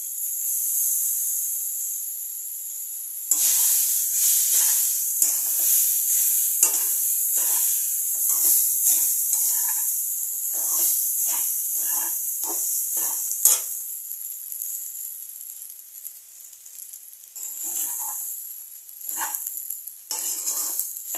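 Boiled rice being fried and stirred in a pan for amla pulihora, a steady hiss of frying broken by repeated scraping strokes of a spatula against the pan, close and continuous with no talk.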